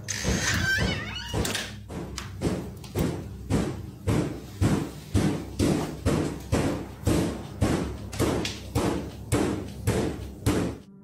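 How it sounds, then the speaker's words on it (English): A cupboard door knocks by itself, a long run of heavy rhythmic thuds about twice a second, steady and fairly loud, each one a dull wooden bang. "Then a cupboard door began knocking all on its own."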